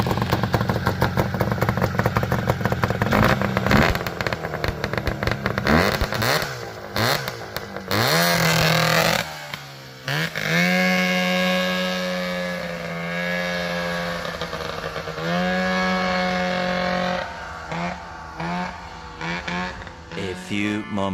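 A go-kart engine runs while its carburetor is tuned, first sputtering and revving roughly with clatter, then settling into a steady buzzing drone with rising and falling revs.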